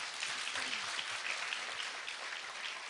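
An audience at a citizens' roundtable meeting in Daegu claps together in a sustained round of applause, fairly distant and soft, with a faint voice underneath.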